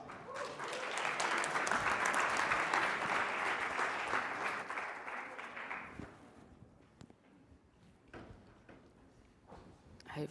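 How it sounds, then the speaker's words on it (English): An audience at the EUROUT 2022 conference bursts into broad applause for about six seconds, then the clapping thins into a few scattered claps and quiet room noise. "Let's give him a round of applause."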